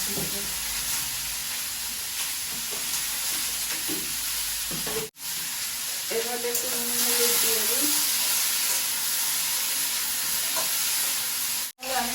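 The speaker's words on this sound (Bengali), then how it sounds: "পেঁয়াজ সব কিছু দিয়ে দিলাম এগুলো ভালো করে কষে নিই" Onions and potatoes frying and being stirred in a hot pan, with a steady loud sizzle and hiss and a few scraping stir strokes, joined by brief talking partway through.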